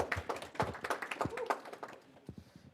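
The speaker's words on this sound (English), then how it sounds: "Let's get a round of applause." Audience clapping to welcome newcomers at a student security club meeting, a short burst of scattered hand claps that thins out, with a cheer mixed in.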